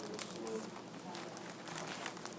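Paper sentence strips being shuffled by hand, a soft, continuous crinkling and rustling that stays faint and close for the whole stretch, with no speech over it.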